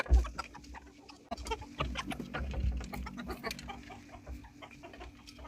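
Backyard chickens, including Australorp hens, brown and white hens, roosters and chicks, cluck and chatter busily up close while being fed roti crumbs, with scattered pecking and soft rustling.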